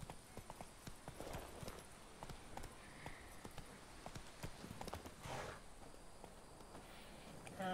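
Horse hooves in the video game The Witcher 3: steady, quiet clip-clop of a walking horse over a faint outdoor ambience with insects, fairly close and even in rhythm.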